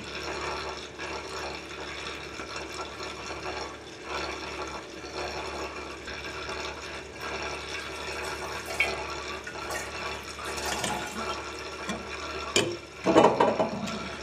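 Apple juice poured into a sanitized fermenter for homemade cider, a steady close liquid splash and trickle running throughout with a few clunks and rattles near the end.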